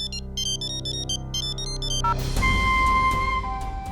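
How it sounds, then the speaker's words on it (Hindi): A mobile phone plays a bright, melodic ringtone in repeating phrases, loud and close, then gives way to a steady electronic tone over a low hum. "किसका फोन है?"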